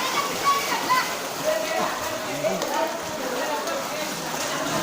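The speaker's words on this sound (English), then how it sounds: "This is flooding in Ganeshpuri." Floodwater rushing steadily through the Ganeshpuri hot spring kund and around the submerged Shankar Mandir, a constant broad hiss and roar with faint voices beneath.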